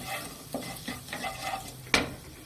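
Semolina being stirred as it dry-fries in a pan with onion seeds, a soft steady scraping with a few sharper clinks of the spoon against the pan, the loudest near the end, close up and with no talk.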